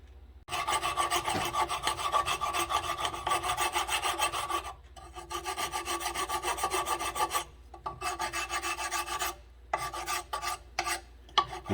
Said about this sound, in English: I find the file works much better than any sanding discs.